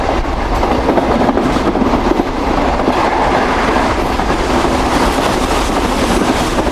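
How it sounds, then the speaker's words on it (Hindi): Shalimar Express train rushing past at speed near Firoza railway station, loud continuous rumble and clattering wheels filling the whole stretch, close and unbroken, with no voices. "बेहतरीन भाई, काफ़ी अच्छी स्पीड में गुजरी है ट्रेन"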